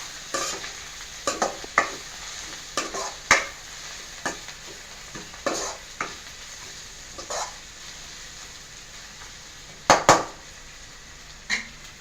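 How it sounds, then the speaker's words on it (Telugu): Prawns and tempering spices crackle and sizzle in a hot pan while a spatula scrapes and knocks against the metal in repeated irregular strokes, fairly close and clear. "ఇప్పుడు తాలింపులు రొయ్యలు బాగా ఫ్రై అయినాయి"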